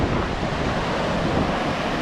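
Ocean surf rolling onto the beach at Assateague Island's natural seashore, a steady, full wash of breaking waves with wind buffeting the microphone throughout.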